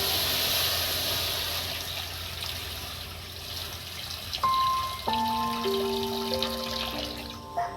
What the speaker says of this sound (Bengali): জল জল জল দেওয়া হচ্ছে।